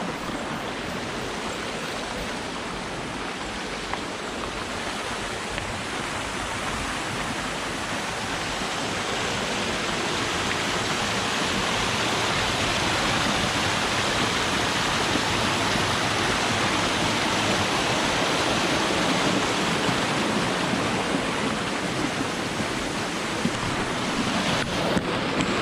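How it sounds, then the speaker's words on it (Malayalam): Water rushing over rocks in a small rocky stream at Vagamon, a continuous broadband roar that holds steady and grows slightly fuller partway through, with no talking. "അവിടെ വെള്ളം ഒഴുകുന്നതിൻ്റെ സൗണ്ടാണ്."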